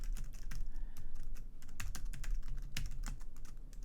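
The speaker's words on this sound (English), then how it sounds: "I'm typing this." Quick, irregular clicks of a computer keyboard being typed on, close and fairly quiet, with a faint room hum underneath and no speech.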